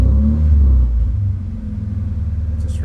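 A Nissan 240 car engine with a modified ECU rumbles loudly and revs up briefly, then drops back to a steady, pulsing idle, close by.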